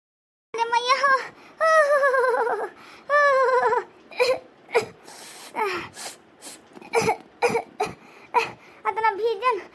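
Someone coughs repeatedly in a rough, uneven series of bursts with gasping breaths and whimpering strains between them, close and fairly loud.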